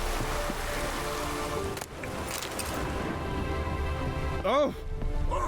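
Steady rain falling in the video game The Witcher 3, a continuous soft hiss under ambient game sound, with a brief rising effect near the end.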